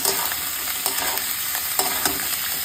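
Capsicum, beans, carrot and potato sizzle steadily in a hot pan, with close, repeated scraping stirs over the constant frying hiss.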